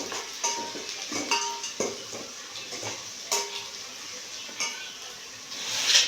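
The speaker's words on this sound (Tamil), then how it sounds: "பட்டை, சோம்பு, கிராம்பு, அன்னாச்சி பூ, வெங்காயம், கருவேப்பிலை இதெல்லாம் போட்டு நல்லா வதக்குறோம்." Cinnamon, fennel, cloves, star anise, onion and curry leaves sizzle in hot oil for a mutton kuzhambu. A ladle scrapes and clinks against the pan in scattered strokes, close by, with no one talking.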